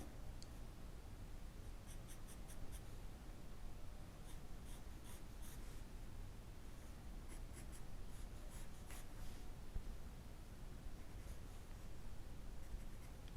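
A pencil sketches an eye in a portrait drawing, giving soft, close scratching and light rustling strokes on paper, with clusters of quick short marks against a quiet hiss.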